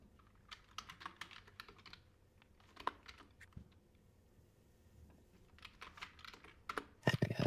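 Typing on a computer keyboard at a desk, with irregular bursts of clicky keystrokes near and clear, pausing between runs and quickening into a denser flurry at the end.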